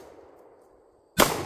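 A single loud shotgun blast fired from the hip during a defensive shooting class, a sharp sudden crack near the end after a low, steady background hum.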